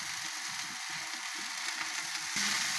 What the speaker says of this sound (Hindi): इतनी देर में हमारा बीफ जो है वो फ्राई हो रहा है।